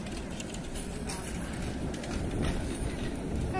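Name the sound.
tram passing at intersection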